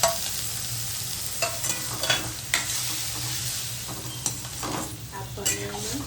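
Paneer fries in oil and butter in a pan, a steady close sizzle running throughout, with intermittent scraping and clinking as a spoon stirs the pieces.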